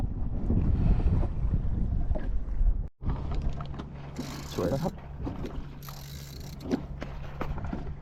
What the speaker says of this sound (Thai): ลมเหนือทิศเหนือทางนี้นะฮะลมเหนือลมหนาวนะครับ